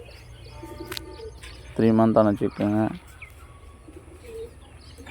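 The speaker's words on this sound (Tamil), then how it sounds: "இந்தியன் ஃபேன்டைல், மயில் புறா நிறையா இருக்குங்க." Indian fantail pigeons and peacock-type pigeons on a farm in Pondicherry give a loud burst of repeated throaty coos in the middle, set against light background chatter, with a person speaking briefly.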